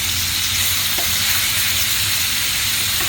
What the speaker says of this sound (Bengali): এইভাবে আমি মাছটা ফ্রাই করতেছি।